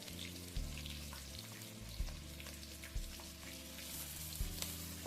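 Onions fry in a pan as the tempering for a puffed rice dish, a steady close sizzle broken by a few soft stirring knocks.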